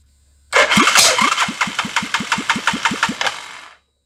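A Hisun UTV engine cranks and catches after a quiet start. About a dozen rapid, uneven firing pulses follow in a loud, close chugging rhythm, then it dies away into silence.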